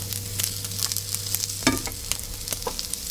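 Bacon sizzling and frying in a pan on the stove, a steady crackling hiss with a brief louder spatter midway and light scraping, with no voices.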